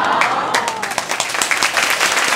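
A concert audience claps along to the beat of an upbeat song, a steady run of rhythmic claps over the music, fairly close and lively, with some crowd noise mixed in.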